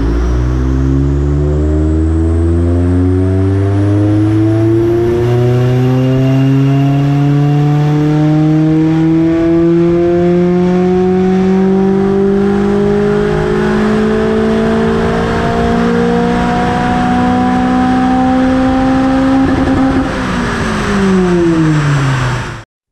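A Mazda MX-5 engine revs on a dyno in one long, loud, steadily climbing pull lasting about twenty seconds. The strong exhaust drone rises in pitch the whole time, then drops away abruptly at the end.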